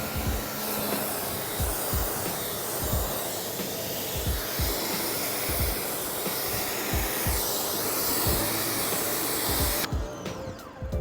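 A car is rinsed with water after being sprayed with Bead Maker, giving a steady, close broadband spray hiss throughout with low thumps underneath, then a sudden cut near the end.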